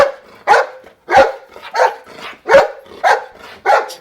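A dog in a shadow puppet show barks close and loud, about seven sharp barks in an uneven rhythm with short gaps between them, some sounding strained or whiny, and no talking over them.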